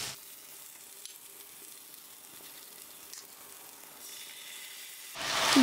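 Chicken and vegetables fry for chow mein, a soft steady sizzle in a pan with faint stirring clicks, swelling into a louder hissing burst at the very end; no talking.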